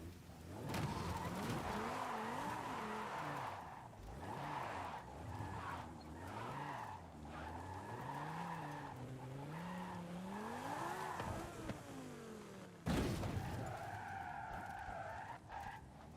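Tires skid and squeal as a car drifts around the Fujimi Kaido track in a Forza racing game, the engine note rising and falling in long sliding waves with a brief sharp burst near the end.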